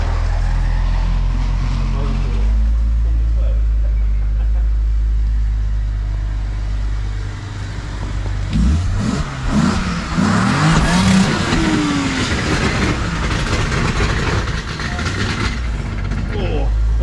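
A car in a closed-off driveway revs hard during a clutch kick attempt, a low engine drone rising into loud, uneven revving bursts from about eight seconds on, with people talking over it.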